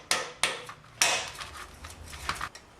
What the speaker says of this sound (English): I'm just going to take a little putty knife here and we'll go between the two because there's some rust holding everything together there